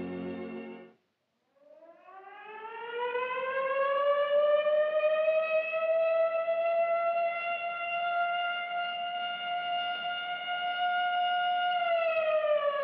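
A mine siren in South Africa calling Black and white African workers to their shift, a single long wailing tone that rises after a short gap, then holds steady and loud for over ten seconds alone.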